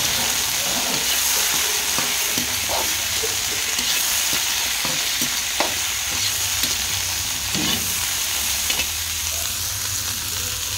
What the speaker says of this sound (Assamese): কেৰেলাখিনি অকণমান সময় ভাজি ল'ব লাগিব